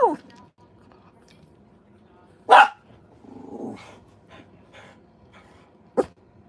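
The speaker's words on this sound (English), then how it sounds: "I can't with the dogs barking" Dog barking indoors in a home, a few sharp barks spaced across the stretch with quieter growly noises between, and a voice speaking briefly in the background.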